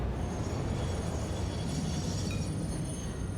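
A train in the factory-building game Satisfactory rolls along with a steady rumbling clatter and a faint high squeal, continuous and fairly loud with no talk.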